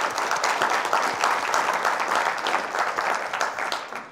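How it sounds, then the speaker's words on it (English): Audience at a climate, gender, poverty and food event applauds warmly, a dense, even clapping that holds steady for several seconds before tapering off at the end. "I think they deserve a round of applause."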